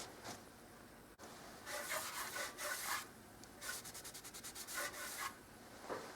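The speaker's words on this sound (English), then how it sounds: "So again, quick wipe over with the damp cloth." A damp cloth wipes over smoothed wall filler on a painted wall, making soft rubbing swishes in bursts with a quick run of short repeated strokes, close and fairly quiet with no talk.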